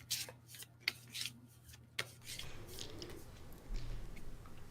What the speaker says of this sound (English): I'm gonna shuffle another one.